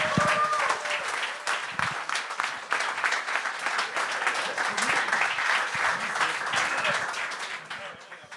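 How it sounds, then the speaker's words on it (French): Loud, sustained applause from a game-show audience greeting an arriving guest, steady dense clapping running the full length with some crowd noise and voices mixed in. "on accueille avec un tonnerre d'applaudissements Éric Étienne!"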